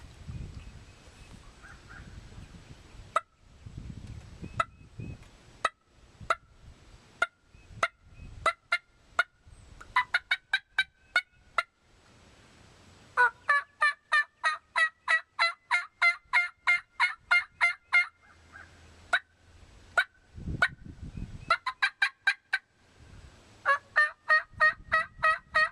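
Diaphragm mouth call, a Spur Collector, imitating a wild turkey: rapid raspy yelps and cutts in repeated bursts, close and clear, with mouth clicks and breaths between series.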